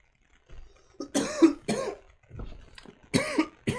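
Several short coughs and throat-clearing bursts in quick succession, close and fairly loud, with quiet gaps between them and no speech.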